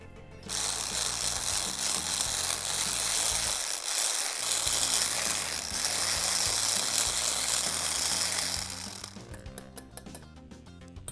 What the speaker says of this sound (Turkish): Tel çırpıcı, mikser ne istiyorsanız iyice çırpın.